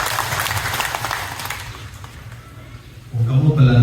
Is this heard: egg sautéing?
no